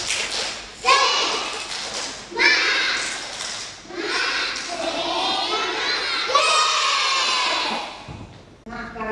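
Kindergarten children at a radio program chanting and clapping a 'tepuk semangat' spirit cheer, with bursts of young voices shouting in rhythm between claps, lively and close.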